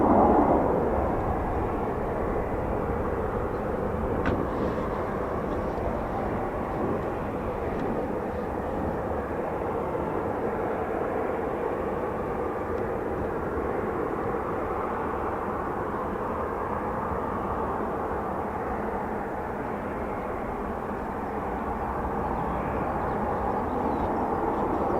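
Military aircraft engines idle at an air base with a continuous, moderately loud turbine rumble and whine that stays even throughout, with no voices.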